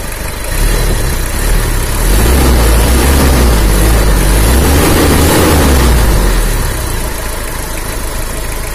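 The diesel engine of a 1998 Kijang Kapsul idles smoothly and steadily nearby, a low even rumble with a faint knocking texture, no voices.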